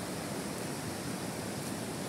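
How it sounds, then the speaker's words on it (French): A waterfall pours in a steady, dense broadband rush near a wild-garlic foraging spot, continuous and fairly loud with no voices over it. "un petit coup de cascade encore"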